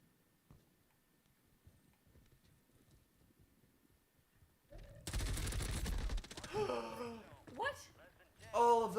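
Burst of gunfire from the video game Call of Duty Warzone, dense and loud for about a second, then followed by game voices and further loud game sounds, after a quieter stretch of faint background noise.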